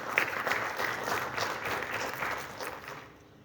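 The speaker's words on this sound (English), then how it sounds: "A round of applause." An audience at a cultural center celebration for a dance event claps in a steady, dense wash of applause that fades slightly toward the end.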